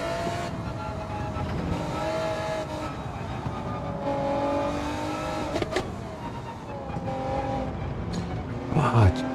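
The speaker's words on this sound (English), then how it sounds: "Big Popper's in the GTR." Race car engines whine and shift through gears in a GT racing video game league, a GTR among them, with rising and falling engine tones and brief clunks heard close up while a voice talks over it.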